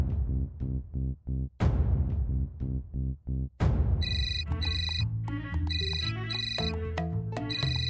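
A phone ringtone plays alone with no voices: a short repeating melodic tone pattern in bursts, then a brighter, busier electronic tune rings on steadily and fairly loud.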